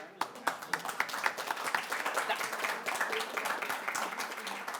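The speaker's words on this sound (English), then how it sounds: "a big round of applause" Audience applause at an international conference on innovation for shared prosperity, dense rapid clapping from a crowd sustained throughout, fairly close and loud, with voices mixed in.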